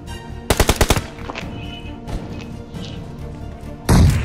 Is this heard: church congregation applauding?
no